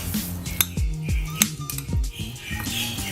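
A spoon stirs sugar into a hot and sour soup mixture, clinking and scraping against the bowl in quick, close taps and swishes, with no talking.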